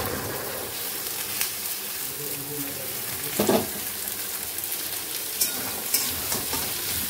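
Cut vegetables tossed into a pan of frying garlic and onion, producing a dense, continuous hiss of sizzling oil with a few louder splatters and stirring knocks in the middle and toward the end.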